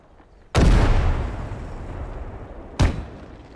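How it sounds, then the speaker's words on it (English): Mortar fire in the WWII video game Gates of Hell: Ostfront, two heavy booming launches a couple of seconds apart, the first loud with a long rumbling decay, the second slightly softer. "Oh, it's a mortar."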